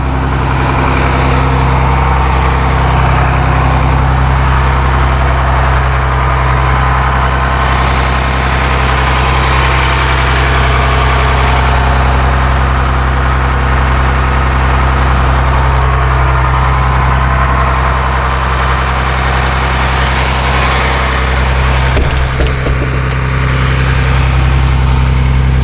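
A 2003 Blue Bird All American school bus with a Cummins ISC 8.3 liter turbo diesel engine idles steadily, a loud, deep rumbling drone heard up close without talking, with a brief faint clatter near the end.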